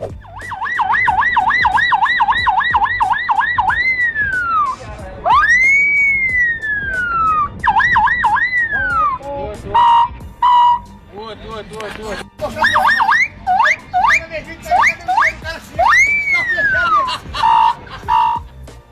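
A voice imitates a police siren, loud and close, with rising and falling wails, rapid yelps and warbling bursts broken by short pauses.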